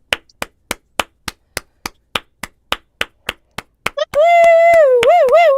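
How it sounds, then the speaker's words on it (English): A small group claps in a steady rhythm, about fifteen sharp, evenly spaced claps close by, ending in a loud, sustained cheering shout. "let's clap it in"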